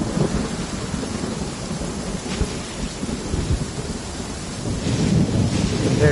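Heavy downpour with rolling thunder in Genshin Impact, a steady broadband hiss of rain drumming close and loud throughout, deep rumbles swelling underneath and growing stronger near the end, with no voices.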